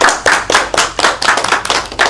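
A class of students claps together in a loud, steady burst of about nine rhythmic rounds, close and filling the room.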